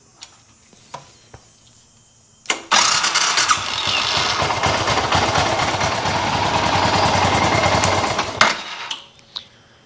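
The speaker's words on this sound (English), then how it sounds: "You're gonna wanna let the bike run for 5 minutes." A Suzuki Boulevard S40 motorcycle engine cranks and catches, then runs loud and steady close by for about six seconds before shutting off, with a few faint clicks before and after.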